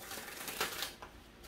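Tarot cards being shuffled by hand during a love reading, a soft papery riffle with a few quick flutters and taps, close and fairly quiet, with no voices.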